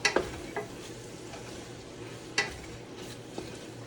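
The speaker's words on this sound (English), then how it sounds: "And then I'm going to bring in my pepper. Stir, stir, stir." A spoon stirs peppers in a cooking pot for homemade vegetable beef soup, producing a few quiet scrapes and clinks, with a cluster at the start and another about halfway through, over a faint low hum.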